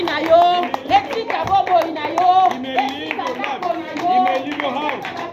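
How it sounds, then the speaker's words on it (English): A church congregation at an evangelical service claps along, the rhythmic hand claps mixed under loud singing and chanting voices throughout. "Clap your hands."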